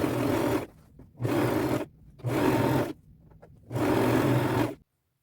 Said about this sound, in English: I'll set it on the largest zigzag stitch that I have. Use black thread and just sew around this.